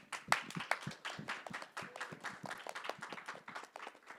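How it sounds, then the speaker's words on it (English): A smaller audience at a screen creators conference claps for a panel, with distinct individual hand claps rather than a dense roar, fairly close and moderately loud throughout. "if we can just give a round of applause to this amazing panel"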